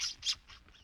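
A gull screams in a radio crime drama set aboard a pirate ship, giving a few sharp, harsh squawks in quick succession that start loud and fade away over under a second.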